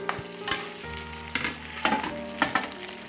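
Meat sizzles in a hot pan, punctuated by a few sharp scraping stirs and clinks.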